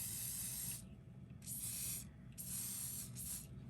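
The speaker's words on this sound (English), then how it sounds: "then you spray it again." Three or four long hissing bursts from an aerosol spray can used while crafting a DIY sock gnome doll, each lasting under a second, separated by short pauses over a low steady background rumble.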